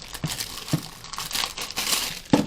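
Plastic and cardboard packaging for a Piranha 7822 Bluetooth speaker is crinkled and torn open up close, in a few quick rustling bursts with a sharper rip near the end.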